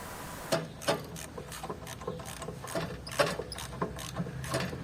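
A wrench tightening a bolt on a belt-driven potato digger, producing a series of faint, close metallic ratcheting clicks and clanks in an irregular rhythm.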